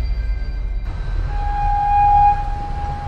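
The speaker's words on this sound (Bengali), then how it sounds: "সেই মতোই নির্দিষ্ট তারিখে নবগোপাল যখন গুসকরায় ট্রেন থেকে নামলো, রাত্রি তখন 12টা" Cartoon sound effect of a train at a deserted railway station at midnight: a low rumble runs throughout, and a steady horn-like tone rises and holds for about a second near the middle.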